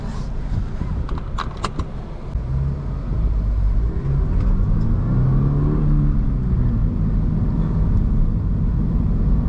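A manual Toyota GR86 sports car drives off, its engine rising in pitch as it accelerates through the gears, loud and close with road rumble beneath.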